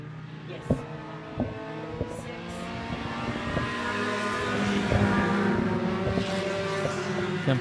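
Sport compact race cars lapping the I-76 Speedway: a steady engine roar rises and swells as cars pass, with a droning whine and sharp transient clicks early on, heard from a distance over an open track.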